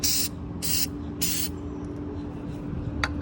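Three short hissing spray bursts of acrylic sealer through a paint nozzle onto a glitter tumbler, evenly spaced, then a quieter stretch with a faint final spritz over a low background hum.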